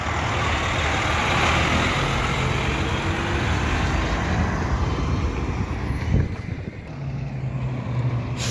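A Bettendorf Trucking truck rolls past on a road in Blue Lake, California, its loud, close engine rumble and tire roar filling the scene, easing off slightly after a short burst partway through.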